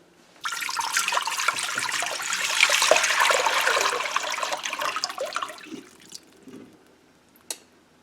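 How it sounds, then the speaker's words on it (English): Water rushes and splashes steadily into a pot for several seconds, then tapers off into a few faint drips and a small clunk. "we're going to pour water in this pot"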